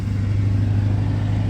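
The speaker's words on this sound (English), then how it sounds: "Wait for that truck." A truck rolls past on a nearby road, a steady low engine drone and tire hum that holds evenly at moderate loudness with no talking.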